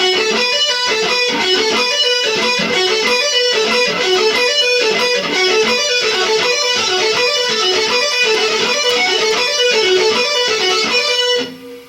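Distorted electric guitar loops a fast pentatonic lick over and over in a tight, cycling pattern, loud and steady before cutting off at the end.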